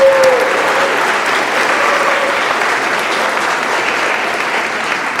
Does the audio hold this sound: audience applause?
yes